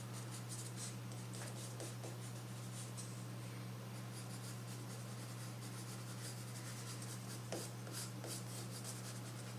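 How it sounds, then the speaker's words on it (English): A pencil sketching on paper gives continuous soft scratching and rubbing strokes, close and steady, over a low electrical hum with no talking. "just kind of a lot of pencil marks"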